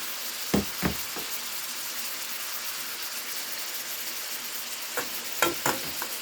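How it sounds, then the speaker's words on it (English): Ramen noodles stir frying in a pan with soy sauce, a steady close sizzle with a few scraping, clattering stirs near the start and end, no speech. "I'll just stir fry that till it turns brown."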